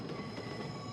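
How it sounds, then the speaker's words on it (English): A passing train in the visual novel Chaos;Child, a faint, steady rumble of rolling wheels with a sustained metallic ring, brief and alone with no voices. "Sound of a train."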